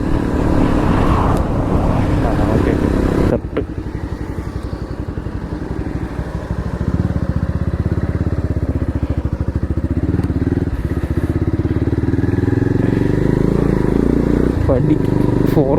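A Bajaj Pulsar 220F BS6 motorcycle is ridden on the road, its engine thrumming steadily and loudly the whole time, with someone talking over it.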